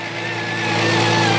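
A Ford Scorpio V6 engine idles steadily after being started, a continuous close mechanical drone with a faint high whine, briefly and unbroken.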